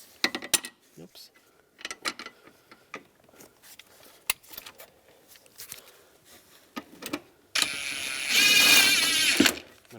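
Bolts on an electric fuel pump of a 2001–2007 Toyota Highlander being snugged up by hand, heard as scattered metallic clicks and ratcheting taps, then a louder continuous grinding whir near the end.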